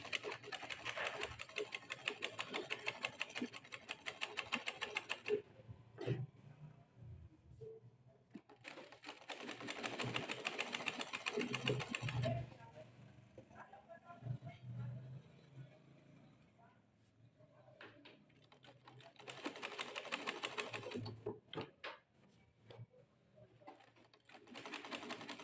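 A sewing machine stitching an invisible zipper runs in several bursts of rapid stitching, pausing between runs, with a voice talking quietly in the gaps.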